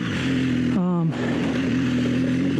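BMW R1200GS adventure motorcycle fitted with Michelin Anakee adventure tires, riding over big rocks and ruts, its engine droning steadily up close with a brief pitch dip and revving change partway through, under constant wind and road noise.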